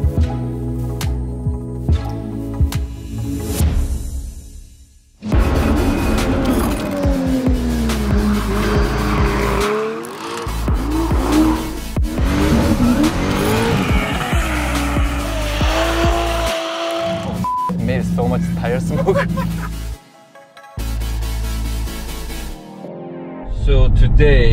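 Race-prepared Mercedes 190E with a swapped F22C1 engine on a track at Horse Thief Mile, Willow Springs, revving hard with loud engine roar and repeated tire squeal through turns, engine cutting out briefly, voices talking over it at times.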